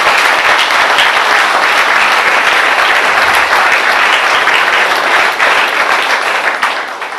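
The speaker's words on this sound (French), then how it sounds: "Je crois qu'on peut l'applaudir bien fort." Strong, sustained applause from a crowd at a ceremony with speeches, loud continuous clapping lasting several seconds and tapering slightly at the end.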